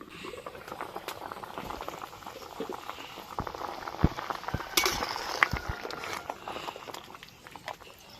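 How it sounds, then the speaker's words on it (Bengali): Potatoes simmer in water in a pot, a quiet bubbling boil with occasional small clinks of utensils or the pot, faint and close throughout. "আলুগুলো সেদ্ধ হয়ে গেছে ভালো করে।"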